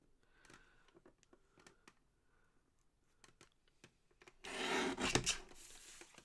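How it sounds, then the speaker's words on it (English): Paper is trimmed close to a printed word: sparse, soft, crisp snips and ticks, then a louder, rougher rasping cut near the end, all close by and without speech. "I'm going to trim off as close to the word remember as I can"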